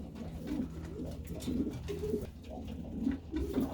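Pigeons in a loft coo in a steady series of low, soft, rolling calls, fairly close and continuous, with no talking.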